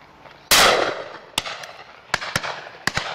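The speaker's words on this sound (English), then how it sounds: "Shot a nice partridge there, Bill." A single loud shotgun blast at a partridge on a pheasant and partridge shoot, close and sharp with a short decaying tail, followed by several fainter sharp cracks.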